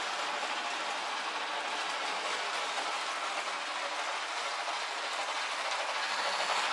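A Bachmann model of a GCR class 04 locomotive running along its track, a steady close rolling whir with faint rhythmic clicking, continuous throughout and without talking.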